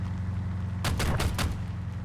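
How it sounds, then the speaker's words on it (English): Video game gunfire cracks out in a quick cluster of four or five sharp shots over a steady low background hum. "I'm hearing gunfire."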